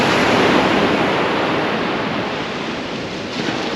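Light sea swell washing onto a sandy shore on the Holderness coast at Tunstall, a steady, loud broadband rush of surf with gentle wind noise and no voices.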